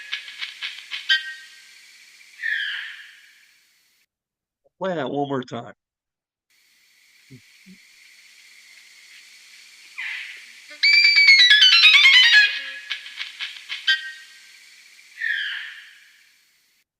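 Winter finch calls slowed to half speed, drawn-out whistled notes with one long descending sweep, repeated several times with gaps and a person speaking briefly between them.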